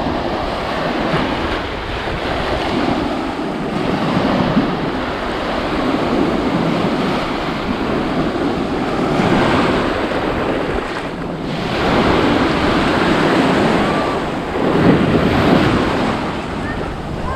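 Surf breaking and washing up on Blind Pass Beach, Sanibel, Florida, a steady broadband roar with gentle swells in loudness, mixed with wind buffeting the microphone, continuous throughout with no talking.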